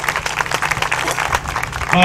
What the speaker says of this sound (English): Let's give these exhibitors a round of applause